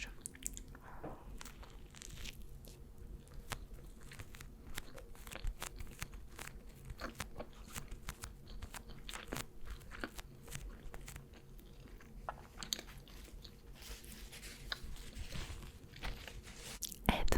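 Someone bites into and chews a cheesy McDonald's burger up close, with steady wet crunching and tearing mouth sounds throughout and no talking.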